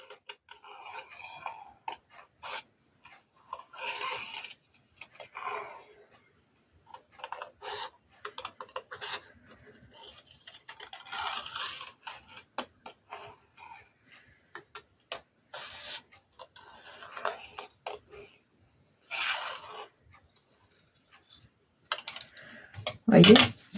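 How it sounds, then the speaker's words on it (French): Scissors cutting paper along a freehand pencil line while a summer place card is made: soft, close snips and rustles come in short, irregular bursts separated by quiet pauses. "j'ai plus qu'à prendre mon ciseau et à suivre le trait que j'ai fait à main levée"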